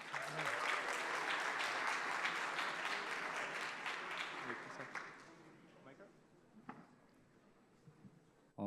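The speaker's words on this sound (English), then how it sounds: "Please give a big round of applause for ZK Vote." Audience applause for a finalist at a hackathon closing ceremony in Istanbul, a dense burst of clapping under a voice that gradually thins and fades out over several seconds.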